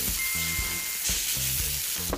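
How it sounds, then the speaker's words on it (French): An egg frying for breakfast hisses and sizzles steadily and up close, with faint stirring or scraping noises mixed in. "Elle fait cuire un œuf."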